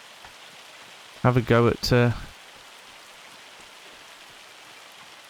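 Hail pelts down on farm crops in Farming Simulator 25 as a constant, fairly faint rushing patter, with someone speaking briefly over it.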